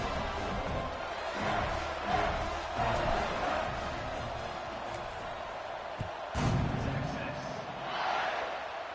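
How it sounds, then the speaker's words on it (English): Stadium crowd noise from the College Football 26 video game on PS5, a steady broad roar with swells of cheering at a kickoff, running under continuous commentary. "They're set to kick it off, and this crowd now ready to get behind them."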